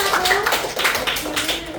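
A small group claps in a brief burst of quick, uneven applause, fairly close.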